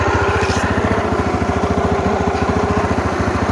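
A Yamaha Grizzly ATV brought in for repair runs its engine close by with a steady, rapid chugging idle, loud and even throughout, with no talk over it.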